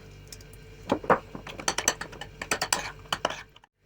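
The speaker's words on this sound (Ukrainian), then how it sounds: "І все це треба гарно вимішати." A spoon clinks and scrapes rapidly against a bowl while thick salad dressing with cream cheese is stirred, a busy rhythmic series of close clatters.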